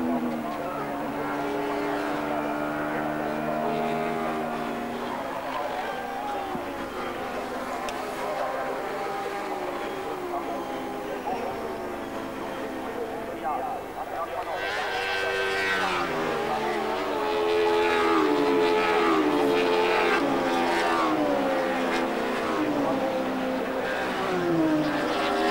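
A DTM touring race car engine at the Nordschleife in 1993 revs hard, its pitch rising and falling through gear changes and growing louder toward the end, under continuous commentary.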